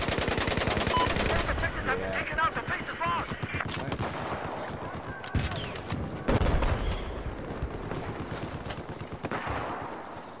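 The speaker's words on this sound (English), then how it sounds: "Where the fuck am I getting shot from?" Dense, continuous automatic gunfire in a video game featuring the QBB-95-1 light machine gun, loud and close, with rapid bursts overlapping distant booms and other shots throughout.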